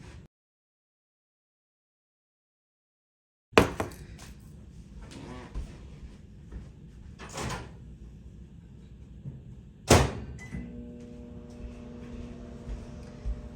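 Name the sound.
microwave oven running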